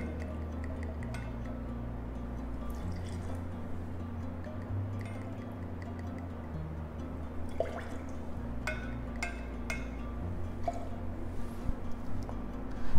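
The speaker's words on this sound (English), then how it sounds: "Post this, we add in our Woodford Reserve. We add in 60 ml of the same." About 60 ml of Woodford Reserve bourbon pours into a sandalwood-powder cocktail, a soft steady trickle of liquid over a constant low hum, with a few light clinks near the end.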